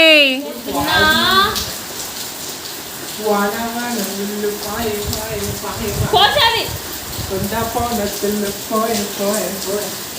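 Steady rain patters across a rooftop where children play, forming a continuous hiss beneath their loud voices, shouts and chatter.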